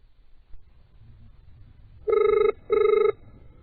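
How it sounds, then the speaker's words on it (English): UK-style telephone ringing during a prank call, two distinct double-burst rings close and clear over a faint, quiet line background. "listen to that ring. That means it's from the UK."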